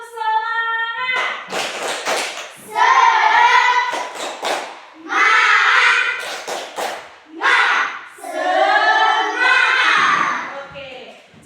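Primary schoolchildren in a classroom do the tepuk semangat routine, with bursts of rhythmic group clapping alternating with loud chanted voices.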